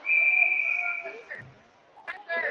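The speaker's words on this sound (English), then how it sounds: "And play is whistled in." A referee's whistle at a senior men's ice hockey game gives a long, steady shrill blast followed by short trailing chirps, set against arena crowd noise with faint voices in the background.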